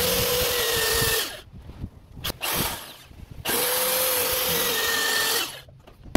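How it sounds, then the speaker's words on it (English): A power drill drives screws into a wooden pallet in two long, loud bursts of whining motor. Between them comes a pause filled with clicks and handling noise, and a third burst starts at the very end, all close by. "with this drill gun, I'm just going to be attaching these screws on it"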